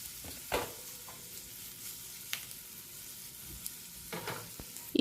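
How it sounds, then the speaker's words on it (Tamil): Capsicum and tomato are tossed over a medium flame in a kadai, giving a soft, fairly quiet sizzle broken by a few clinks and scraping stirs near the start and end. "கொடமிளகாய், தக்காளி இது எல்லாத்தையும் போட்டு மீடியம் ஃப்ளேமில் ஃபாஸ்ட்டாக டாஸ் பண்ணி விட்டுக்கலாம்"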